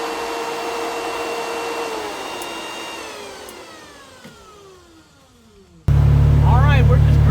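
Kemimoto RGB fan blowing air inside a moving vehicle makes a steady whirring hum that slowly winds down in pitch and fades, then a louder droning whir cuts in, with a voice briefly heard.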